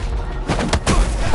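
Gunfire in the video game Midnight Fight Express: a rapid burst of loud, close shots and impacts over game noise, with no talk.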